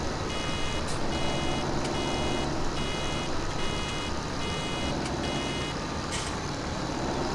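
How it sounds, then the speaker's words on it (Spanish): Reversing beeps from a vehicle in Farming Simulator 2017, a steady series of repeated electronic pips over a continuous low engine rumble, heard close and without talk. "Cuando suenen los pitidos, bajar velocidad."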